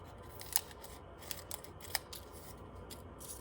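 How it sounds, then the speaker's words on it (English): Scissors cutting folded paper for a dragon craft, a few crisp snips and slicing strokes close by, fairly faint over a steady background hiss, no talking. "We're going to then open and cut across the crease."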